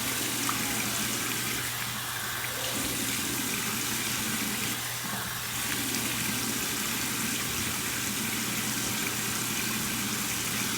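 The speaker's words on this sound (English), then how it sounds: "Let me throw some cold water on my head." Cold water splashing and running from a tap onto a freshly razor-shaved head over a sink, a loud continuous hiss and patter that holds steady for several seconds with no voices.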